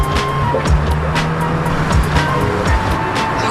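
Car engine straining and accelerating during a chase, a loud, rushing drone with repeated thumps and passing whooshes, no voices heard.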